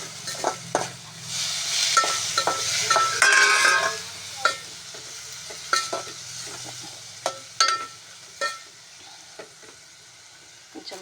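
Chillies frying in a pan with tomato juice, a spoon stirring through the sizzle with a steady hiss and repeated sharp scrapes and clinks against the metal, loud and close throughout.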